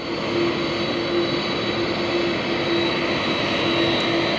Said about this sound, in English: you're watching Air Force One as it is about to make the turn